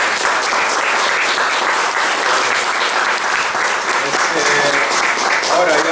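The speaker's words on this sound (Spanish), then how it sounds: "Un fuerte aplauso para Carlos." Loud, sustained applause from a bookshop audience at a literary talk, steady dense clapping filling all six seconds, with faint voices mixed in near the end.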